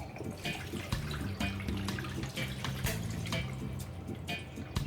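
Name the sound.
water being drained off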